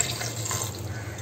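Water poured into a pot of banana stem kootu ingredients for cooking, a short, steady splashing stream that runs close and continuous with no talk.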